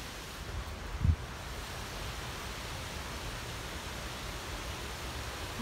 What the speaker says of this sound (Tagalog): Mga maliliit na waterfalls ni Gina.